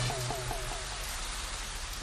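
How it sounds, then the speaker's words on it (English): Rain laid over a scene from a UK dating show as a dramatic effect: a steady, soft hiss of rainfall runs throughout, with a brief voice-like tone at the very start. "We added the rain for dramatic effect."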